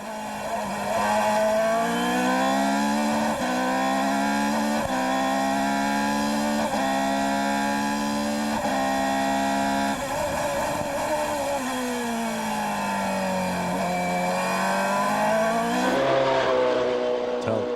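Formula 3000 race car screaming at high revs on board at the Nurburgring in 2002, loud and continuous with rising and falling engine pitch through gear changes and a deep dip in revs through a slower section, no talk.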